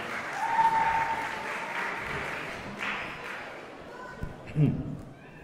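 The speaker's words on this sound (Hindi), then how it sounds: "तालियां ऐसी हों कि पता लगे कि किसी अजीम इंसान के लिए हम यहाँ पे कुछ परफॉर्म करने जा रहे हैं" An audience applauds before a stage performance, a soft spread of clapping under and between a voice speaking, with a few sharper bursts near the end.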